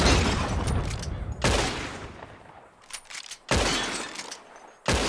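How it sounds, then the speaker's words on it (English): Revolver shots ring out in the Red Dead Redemption 2 video game as glass bottles are shot, with three sharp, loud cracks and bits of shattering between them, close and without speech. "Whoever shoots more of these bottles wins."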